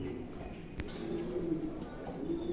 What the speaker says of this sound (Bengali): দেখেন চমৎকার একজন কবুতর